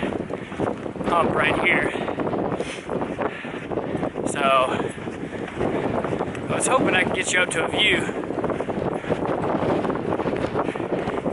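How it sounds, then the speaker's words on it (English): Gusty wind on the Pacific Crest Trail between Mojave and Kennedy Meadows buffets the microphone with a low rumble while a person talks over it. "So I had to cut that last clip a little bit short because of the wind"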